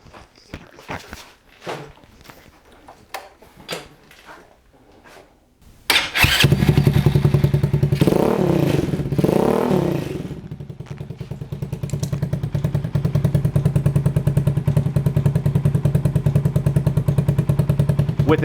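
First come a few scattered footsteps and clatters, then a motorcycle engine starts and settles into a loud, steady idle close by with a deep throb, revving briefly before holding even, the exhaust tested with its baffle.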